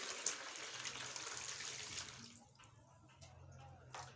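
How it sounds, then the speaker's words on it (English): Water is poured into salt in a container, a steady gushing pour that stops partway through, leaving quieter drips and faint handling noises. "you get your water and pour the water inside the salt."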